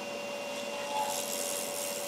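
A tool cutting an acrylic pen blank into ribbons of shavings on a lathe, producing a steady, soft hiss with a faint whine that holds evenly and close throughout.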